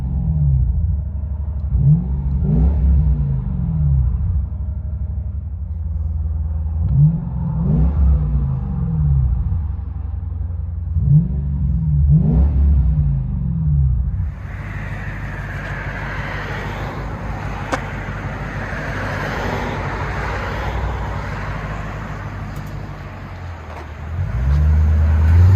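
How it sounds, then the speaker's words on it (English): From inside the cabin of a 1999 Lexus GS 400 with a 4.0L V8 and a Borla Pro XS exhaust with an X pipe, several deep, rumbling rev bursts are heard, then a steadier, smoother cruising drone. "GS400. BORLA Pro XS and X pipe. Man, that sounds good."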